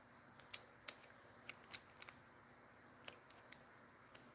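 A cutting tool blade slicing out a vinyl decal, heard as a sparse series of short, crisp clicks and snips at irregular intervals against a quiet background, with no talking.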